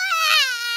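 A cartoon baby wails in Peppa Pig, one short, high, rising and falling cry that stands alone and clear, less than a second long.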